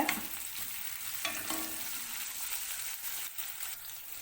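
Chopped green chilli frying in hot oil for dal tadka while being stirred, a steady close sizzle with a few scraping stirs and no talking.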